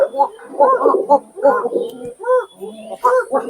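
Pigeons coo in a steady run of low, rounded calls, close by and fairly loud, with short pauses between bursts and what may be voices mixed in.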